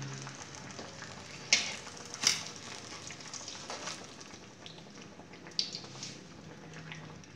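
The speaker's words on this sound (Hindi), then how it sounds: "इनको थोड़ा हिला के पकाएंगे। ये फ्राई हो चुके हैं।" Paper-wrapped chicken frying in a pan gives a low, quiet continuous sizzle, broken by a few sharp scrapes or knocks as it is stirred.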